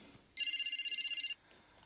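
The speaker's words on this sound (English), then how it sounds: "Alice, it's John on the phone." A telephone rings once with a single bright electronic ringtone burst lasting about a second, loud and close, in a quiet indoor home scene with no talking over it.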